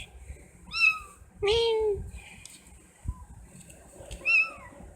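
A mother cat and her six kittens meow in turn, with several short, high-pitched kitten cries and one longer, lower call, close by and spaced out over a few seconds.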